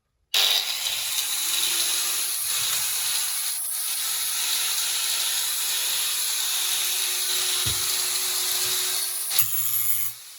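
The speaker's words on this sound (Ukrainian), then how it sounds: "Так, відрізало швидко, шліфує просто чудово." An oscillating multitool with a diamond disc grinds and cuts continuously with a harsh, buzzing hiss that runs steadily for several seconds before cutting off.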